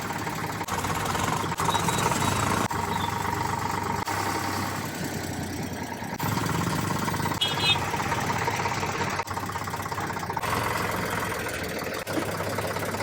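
A tractor engine runs steadily nearby, a loud continuous rumbling drone with a rough knocking texture throughout.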